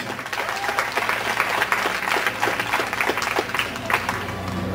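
Applause from a crowd of students gathered at an outdoor campus rally against racism at the UCI Student Center, steady dense clapping with scattered louder claps throughout, fairly close.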